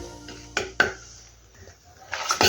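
Chili powder and coriander powder fry over low flame in a pan for an amaranth leaf curry, with a spatula scraping and clinking against the metal in a few sharp, close strokes.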